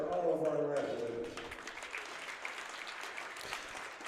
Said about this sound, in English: A big round of applause for all of our wrestlers.